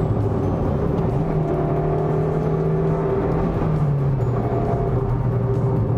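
A Maruti Suzuki Swift accelerates from inside the cabin, its engine note climbing through the gears as revs rise and fall in steps, steady and fairly loud, with no speech.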